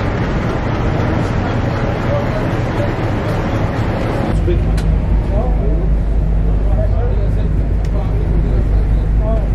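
Busy street traffic outside a train station in Cairo, Egypt hums steadily nearby, a dense continuous wash of engine rumble that deepens halfway through.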